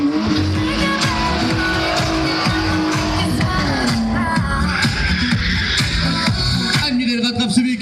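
A six-cylinder petrol car drives hard on a track, its engine roaring steadily and loud with rising and falling revs, while an announcer talks over it.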